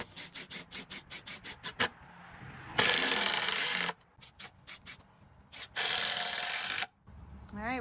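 Screws are driven into the boards of a raised garden bed with a power driver, giving several sharp whirring bursts and quick ratcheting pulses, close by and moderately loud.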